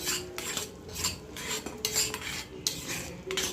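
A metal spoon scrapes and clinks against a pan while mixing cardamom powder into melted jaggery for sesame chikki, in brisk, repeated close-up strokes with no voices.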